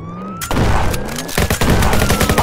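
Heavy gunfire erupts in the Roblox game Jailbreak, a loud, rapid fusillade of shots that starts abruptly and keeps going, close and dominant with no voices.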